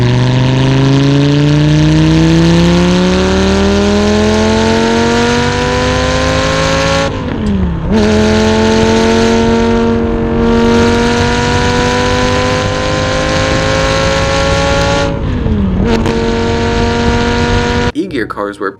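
A Lamborghini Gallardo with a six-speed gated manual gearbox accelerates hard, its loud engine climbing steadily in pitch through each gear, dropping sharply at two upshifts before rising again, close and dominant throughout.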